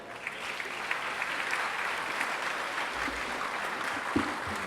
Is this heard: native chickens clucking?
no